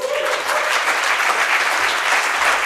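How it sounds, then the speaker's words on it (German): Full, steady applause from a conference audience after a talk on ultrasound, a loud, even wash of clapping filling the room throughout. "Applaus"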